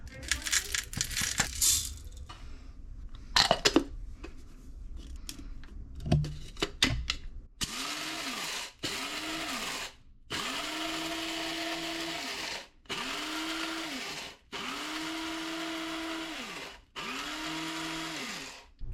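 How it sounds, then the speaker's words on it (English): Electric grinder grinding coffee beans for cold brew in short repeated pulses, five or six bursts of steady whirring separated by brief pauses, preceded by scattered clinks and handling noises. "gonna grind our coffee and then we're gonna put it into the cold brew maker"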